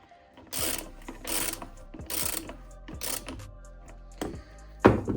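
An oil plug screwed back into a Sym Orbit 2 150 scooter engine makes quick bursts of ratcheting clicks, close and mechanical, separated by short pauses, with a sharper clank near the end.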